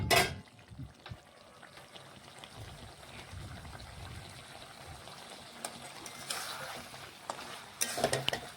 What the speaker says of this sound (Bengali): এইভাবে নাড়াচাড়া করতে করতে দেখুন জলটা শুকিয়ে নেব আমি।